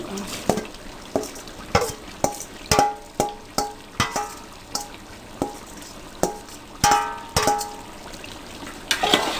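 Half a kilo of shredded carrots goes into browned chicken cooked with degi tikka masala in a pan: a spoon clanks and scrapes against the metal again and again, in a steady rhythm over a soft sizzle, with no voices.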